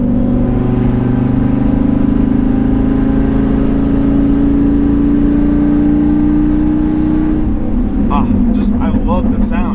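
A Dodge Viper truck engine running with a loud, steady droning rumble that rises slightly in pitch, with voices talking near the end.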